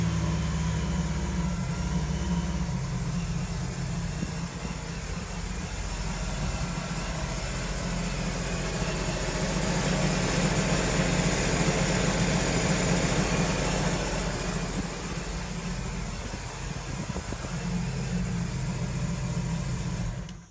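The left engine of a Sea-Doo 230 Challenger boat idles steadily, a close, constant low rumble with droning mechanical vibration and a slight change in tone partway through, no voices over it.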